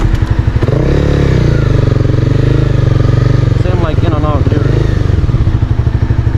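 A motorcycle engine idling loudly close by at a pizza drive-thru in Los Angeles, a steady throbbing rumble with a brief rise in revs midway.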